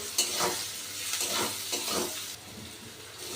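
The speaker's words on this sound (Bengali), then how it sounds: "রসুনটাকে পেঁয়াজের সাথে আমি ভেজে নেব" Garlic paste fries with lightly browned onion in a pan, giving a steady sizzle broken by a few bursts of stirring and scraping close by.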